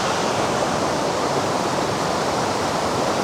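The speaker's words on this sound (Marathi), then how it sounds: "या साईडून हा धबधबा येतो आणि इकडून तो धबधबा असा वाहत जातो." Waterfall at Kondeshwar near Badlapur pouring in a dense, constant roar of rushing water, loud and close, with no breaks or other sounds.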